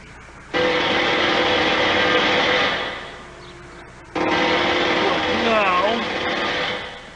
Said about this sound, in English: Sounds like someone's drilling in the street.